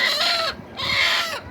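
Desi chickens cluck in two drawn-out, rising calls, close and fairly loud, with a short pause between them and no voices.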